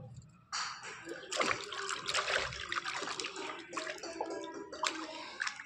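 Warm water mixed with shampoo for a foot soak sloshes and trickles in a steady, close, continuous wash, with small splashes throughout and no talking.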